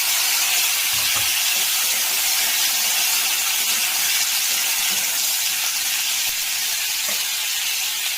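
Chunks of papaya and potato sizzle in hot oil in a pan with cumin seeds and bay leaf, a steady loud frying hiss throughout with a few faint knocks of stirring.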